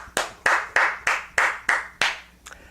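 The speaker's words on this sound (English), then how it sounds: "Let's give them a round of applause now." A small banquet audience claps in a series of separate, sharp hits about three per second, each one ringing briefly before the next, with the last clap coming softer and trailing off.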